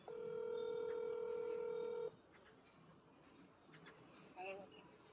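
A telephone number is dialed on a phone, with a steady run of touch-tone beeps for about two seconds, then quiet room sound with a few faint tones near the end; people talk in the clip.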